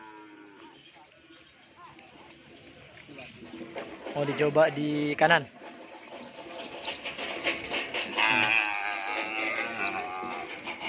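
Cattle moo close by at a gathering of bulls, with a loud bellow in the middle and further low calls later, while people talk throughout.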